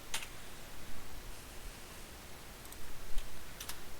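Keys on a computer keyboard are typed in sparse, quiet clicks and short bursts, faint against a soft background hiss.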